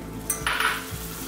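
Cubes of butter dropped into hot caramel over turned-up heat give a sudden bright sizzle that swells for a moment, with faint stirring and pan clinks, close and alone.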